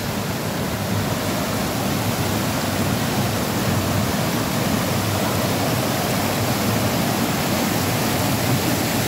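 A waterfall and river at Pangas Falls pour out a steady, dense rush of white water that holds constant and fairly loud throughout, with no voices over it.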